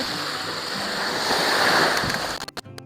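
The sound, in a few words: waves on the white sand beach of Destin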